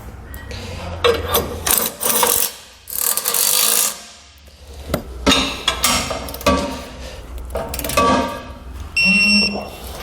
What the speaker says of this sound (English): We're going to go ahead and snug up all of our fasteners here